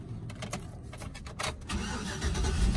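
A customized 1990 Cadillac Brougham's old engine cranks and catches, the rough mid-pitched engine noise building into a steady, loud running rumble toward the end, with no talk over it.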